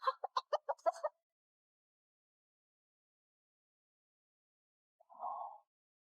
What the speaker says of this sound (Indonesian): Kek, ayam kecil cepat keluar.